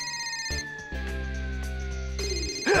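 A telephone ringing indoors with a steady electronic ring tone, continuous and fairly clear, with brief changes in pitch and a short break partway through.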